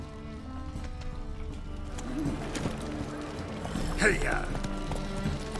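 Roach the horse gallops along in The Witcher 3, hooves pounding in a steady run beneath game music, with a voice calling out to urge the horse on partway through.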